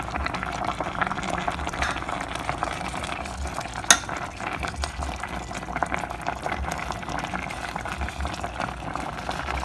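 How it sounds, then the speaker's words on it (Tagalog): Laing, taro leaves simmering with dried fish in a pot, gives a steady soft bubbling and low sizzle throughout, close and even, with one brief sharp clink partway through. "niluluto ko ng laing"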